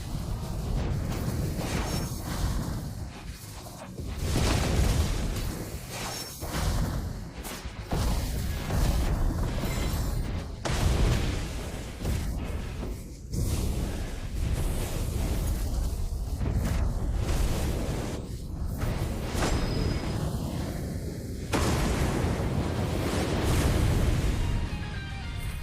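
Fireball special attack from the Flame Emperor Sabo character in One Piece Fighting Path: a dense, continuous stream of loud fiery bursts and booming blasts, packed close together with no pauses.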